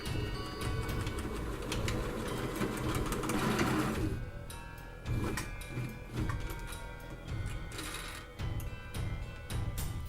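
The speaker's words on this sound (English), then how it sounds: "And I just sew it a simple straight stitch." Sewing machine runs a simple straight stitch along a shirt seam, a fast rhythmic mechanical whir that stops after about four seconds, then gives way to a few short bursts and soft handling clicks, fairly quiet and close.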